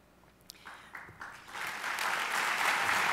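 Applause breaks out in an audience at a city's annual State of the City address, starting with a few scattered claps and swelling within a second into full, steady clapping from a large hall.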